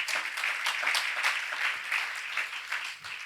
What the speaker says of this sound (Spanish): dale un aplauso a ese Jesús que no te deja ni te abandona